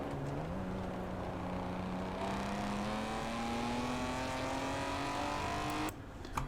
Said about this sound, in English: we did grab one more clip from the game of the same thing, essentially the cruising speed and then accelerating